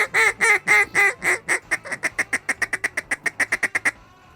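Mallard ducks quack loudly and close by, a few long drawn calls giving way to a rapid, evenly spaced series of shorter quacks that stop abruptly, heard at a duck hunt on a goose farm.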